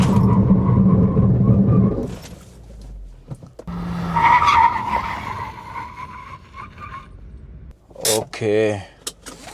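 A Maruti Suzuki CNG SUV brakes hard from 100 km/h, its tires skidding and squealing in a loud sustained screech that fades as it stops, followed by brief short squeals; voices talk before and around it.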